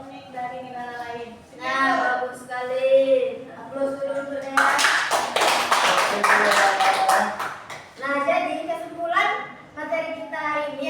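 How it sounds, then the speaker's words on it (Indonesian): A burst of classroom applause for a student, several seconds of close clapping from a group, set between stretches of a teacher talking. "Aplaus dulu untuk dia."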